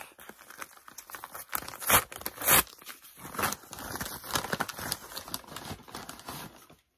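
Paper envelope being torn open and its contents unwrapped, with a few sharp rips near 2 and 2.5 seconds amid close, continuous crinkling and rustling, no voices.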